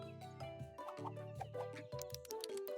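Chicken clucking in the Farming Camp video game, a series of short, bright bird calls over cheerful synthesized game music, close and moderately loud.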